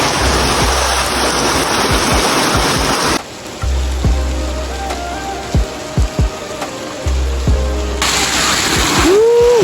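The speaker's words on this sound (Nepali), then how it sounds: "यति ठुलो पानी पऱ्यो कि यति ठुलो पानी पऱ्यो" Heavy rain pours down in Sundar Bazar, Lamjung, a dense roaring wash that cuts off abruptly, leaving quieter dripping and thuds for several seconds before the downpour surges back loud near the end.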